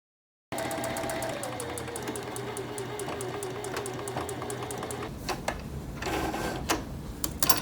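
A sewing machine stitches a quilted table runner in a fast, steady rhythmic clatter for about five seconds, then stops, leaving scattered clicks and handling of fabric while a person talks.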